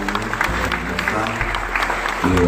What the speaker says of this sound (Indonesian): tepuk tangan untuk ketua baru